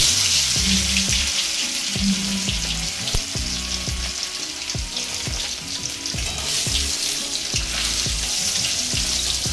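Boiled potatoes fry in oil with cloves, cinnamon and cardamom for banana kofta, giving a loud, steady sizzle punctuated by regular spatula taps and scrapes against the pan throughout.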